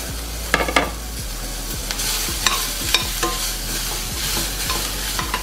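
Onion, capsicum and garlic fry in a pan under a steady sizzle, while a spatula scrapes and stirs at a regular rhythm, close and clear.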